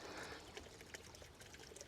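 Milk pours briefly into a garden inoculant mixture, a soft short liquid splash and trickle, faint and close with no talk.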